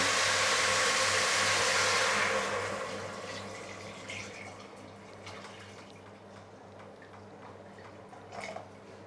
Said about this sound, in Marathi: चला आता यामध्ये गरम पाणी घालूया